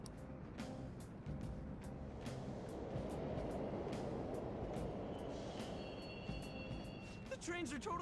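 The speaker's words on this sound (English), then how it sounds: "The trains are totally running." Subway trains rumble and clatter through a station in Persona 5 Royal, a continuous loud low roar with rhythmic clicks and a faint high squeal near the end.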